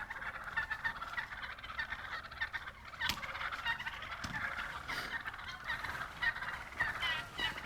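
Wild turkey jakes gobbling at a roost, several rapid rattling gobbles rising and falling at moderate distance over a steady outdoor background, with no speech.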